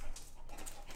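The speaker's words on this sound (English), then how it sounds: "He's a crazy dog." Dog on three legs whimpering and panting in short breathy bursts, close by and fairly loud, no talk over it.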